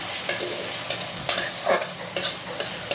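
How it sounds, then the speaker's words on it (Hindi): Spoon stirring cabbage manchurian in a pan with soy sauce just added, giving a series of sharp scraping and clinking strokes over a soft sizzle, roughly every half second, close and clear with no talking. "1 छोटा चम्मच मैं सोया सॉस देखिए ऐड की हूँ और इसको चला लेते हैं"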